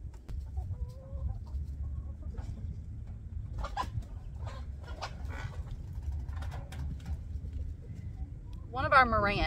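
Marans hens cluck inside a chicken coop, with scattered short clucks and soft murmurs over a low rumbling background and a louder, drawn-out squawk near the end.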